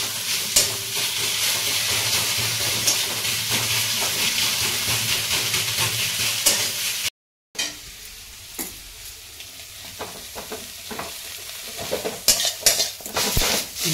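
Leaves with garlic frying in a pan as the water cooks off, stirred now and then, give a steady close sizzle that drops off briefly and then returns quieter with scattered clinks and scrapes.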